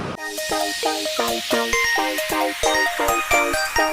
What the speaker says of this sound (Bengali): এখন আমাদের ট্রেনটাও ছেড়ে দিবে, আর 2 মিনিট বাকি আছে।